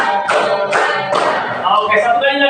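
Group of participants clapping in counted bursts during an ice-breaking clap game, with three strong claps spaced roughly evenly at the start, followed by overlapping voices.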